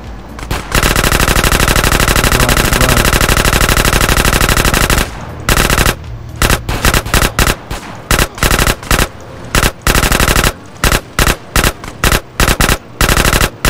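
Machine gun fire in GTA San Andreas, loud and close: a long unbroken automatic burst of roughly five seconds, then a string of shorter bursts broken by brief gaps, with no talking.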